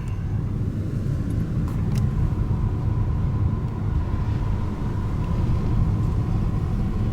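A car rolls along the Sooke road with a steady low engine and tire rumble from inside the cabin, constant and unbroken throughout.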